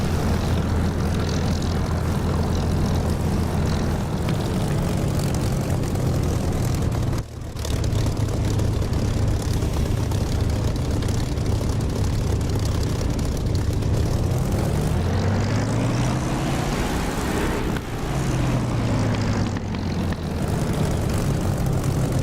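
Supermarine Spitfire in the DCS flight simulator, a loud continuous propeller engine drone with steady low harmonics, pitch rising and falling as power changes, a brief dip midway, no talk.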